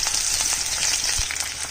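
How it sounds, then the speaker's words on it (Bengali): A small onion fries in hot oil while being browned for a katla fish curry, giving a steady, close, continuous sizzle with faint crackles throughout and no talking. "পেঁয়াজটা লাল করে ভেজে নিচ্ছি।"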